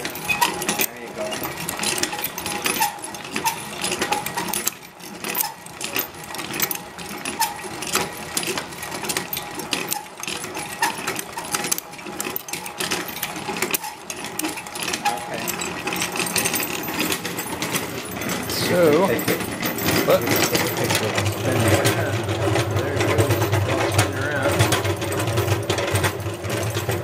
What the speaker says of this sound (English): that's the honey coming out of the extractor